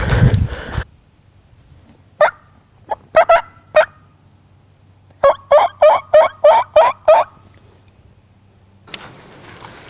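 Wild turkey calls on a spring hunt in the woods: two scattered notes, then a tight run of about eight rhythmic calls at moderate distance, with brief rustling at the start and end.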